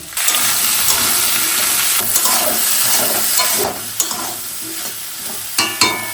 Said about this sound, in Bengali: আলুগুলো ভাজা হয়ে গেছে এবার বীজকলা দিয়ে দেবো বীজকলা দিয়ে একসঙ্গে ভেজে নেব